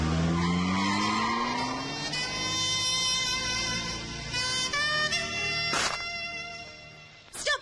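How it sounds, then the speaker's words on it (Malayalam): A car pulls away with a loud skid and tire squeal, the engine tone rising steadily over several seconds and ending in a sharp burst, with no one talking. "ഡ്രൈവർ, വണ്ടി എടുക്കൂ."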